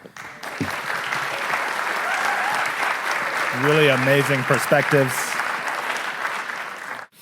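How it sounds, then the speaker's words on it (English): An audience claps steadily throughout, a dense wash of applause with a person speaking briefly over it midway. "can we give another round of applause for our panel?"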